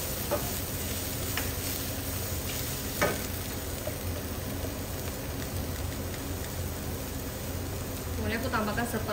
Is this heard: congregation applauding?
no